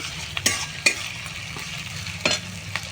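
Spoon stirring ginger paste into food frying in a pan for egg chilli, with a continuous loud sizzle broken by a few scraping clacks of the utensil against the pan, close by, with no talking.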